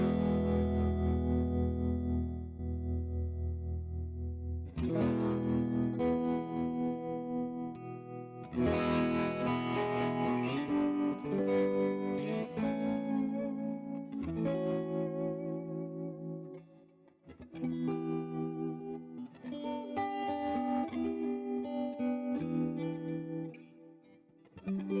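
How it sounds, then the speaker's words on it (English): An electric guitar plays chords and phrases through a tremolo effect on the Neural DSP Morgan Amp Suite amp-sim plugin, the sustained notes pulsing rapidly in volume, with brief gaps between phrases and no talking. "Let's go with the trem and see what that sounds like."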